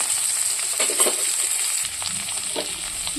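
Panch phoron spices, including fenugreek seeds, fry in hot oil with a loud, steady bright hiss and a few soft crackles and stirring sounds.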